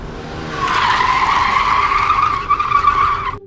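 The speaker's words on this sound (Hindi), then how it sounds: "कार झटके से रुक जाती है।" A loud, sustained tire squeal as a car skids to a sudden stop for about three seconds, shrill and steady before cutting off abruptly.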